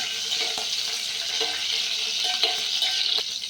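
Cut green chillies are stirred through sizzling oil in a pan for a cluster bean tomato curry, giving a continuous hiss with faint scraping strokes.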